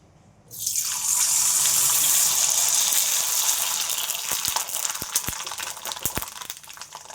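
Sun-dried sabudana potato papad hits hot oil and sets off a sudden loud, dense sizzle that stays steady and bright, with sharp pops and crackles breaking through toward the end.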